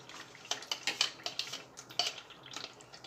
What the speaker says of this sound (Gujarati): તો આ 200 ગ્રામ દહીં છે, એને આ રીતે મિક્સ કરી અને પછી આપણે એડ કરી દઈશું.